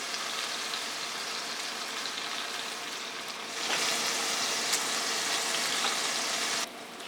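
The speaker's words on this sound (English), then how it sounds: "Now that my pan is hot, I'm going to go ahead and add the steaks in." Filet mignon steaks searing in a hot pan with a little beef stock added, giving a steady, close hiss of frying that swells louder partway through and then eases off near the end.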